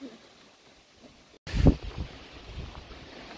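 Steady wind buffets the microphone outdoors at Munkácsy lake while fishing, with a sudden louder gust rumbling in partway through and continuing as a rough, low roar.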